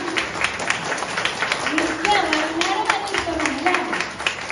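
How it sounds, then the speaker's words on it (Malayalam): An audience claps hands in a rhythmic patter at a Malayalam-learning gathering, with a voice speaking over the clapping throughout. "നല്ലോണം കൈയടിക്കണം"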